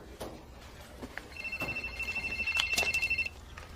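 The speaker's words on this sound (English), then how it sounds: "Your cell phone. It's ringing." A cell phone rings with a steady electronic tone that pulses for about two seconds mid-clip, fairly close and moderately loud over a quiet room with faint movement noise.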